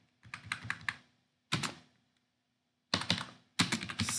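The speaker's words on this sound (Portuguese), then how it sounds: "Pressionou espaço. Pressionou" Computer keyboard keys tapped in separated bursts, quick clicky strokes in clusters with pauses between, up close and without speech, as in controlling a Java game with space, Enter and arrow keys.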